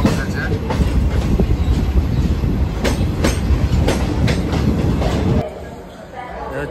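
Shalimar Okha Express train rolling along with loud rhythmic clickety-clack from the wheels over the rail joints, a close and continuous rumble that drops away sharply near the end.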